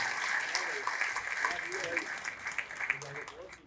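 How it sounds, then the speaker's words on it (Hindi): Audience applause greets a poet called to the stage at a live kavi sammelan poetry gathering, a steady wash of clapping lasting a few seconds, moderately loud and roomy, with a voice briefly heard over it. "जरा जोरदार तालियां"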